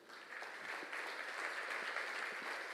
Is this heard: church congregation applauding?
yes